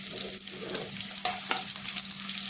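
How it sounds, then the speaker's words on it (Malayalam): Onions and curry leaves frying in a pan for a Kottayam-style Kerala sardine curry, a constant close sizzle with a low hum underneath and a couple of sharp stirring taps, no talking. "അങ്ങനെ നമ്മുടെ സവാളയും കറിവേപ്പിലയും കൂടി ഇട്ട് കൊടുത്തിട്ടുണ്ട്"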